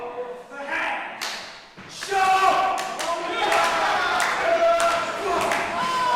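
A wrestling crowd cheers and shouts steadily through the clip, with thuds and claps rising out of it and a commentator talking over the noise.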